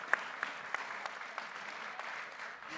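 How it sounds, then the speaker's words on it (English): Audience applause for the panelists at the close of a keynote lecture session, a steady, fairly faint patter of many hands clapping at a distance, with a few sharper claps standing out. "Can we give a round of applause to our panelists?"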